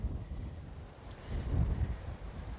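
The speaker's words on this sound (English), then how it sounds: "I just came on to say the wind is so noisy" Wind buffets the microphone outdoors during metal detecting, a steady low rumbling roar that swells and dips, loudest in a gust around the middle, with no talk.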